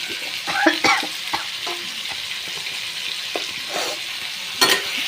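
Chopped tomatoes with salt sizzle steadily in a hot pan, with scraping and clinking of a spatula stirring them in short bursts, close and clear.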